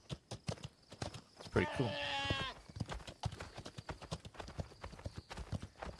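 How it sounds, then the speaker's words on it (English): A mule ridden in the video game The Legend of California clops along in a steady rhythm of hoofbeats, with a short animal bray in the middle and someone talking over it. "This is a mule we're riding,"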